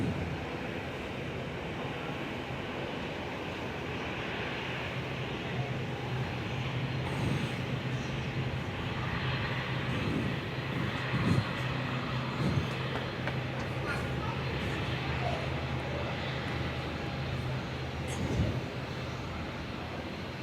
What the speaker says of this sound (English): Airlink with the ATRs taxiing outbound.